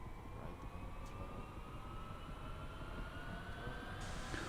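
Twin jet engines spool up in the DCS World flight simulator, a steady broadband roar with a slowly rising whine, loud and continuous, brightening sharply near the end as the second engine catches.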